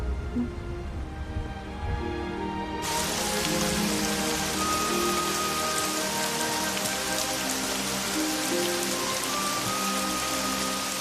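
Rain sets in abruptly after a few quiet seconds, then pours down steadily as a dense, loud, close hiss of drops on surfaces that continues without a break.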